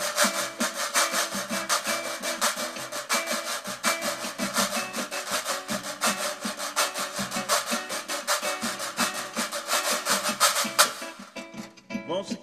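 Reco-reco scraper with metal springs played in a rhythmic percussion pattern, fast repeated rasping strokes close up and loud for about eleven seconds before stopping.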